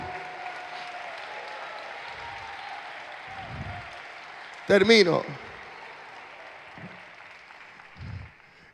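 A church congregation applauds at a Spanish-language evangelistic service, a sustained patter of clapping with a preacher's voice heard briefly over it.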